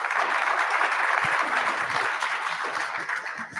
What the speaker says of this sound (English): Please give a round of applause for Hans from RISC Zero.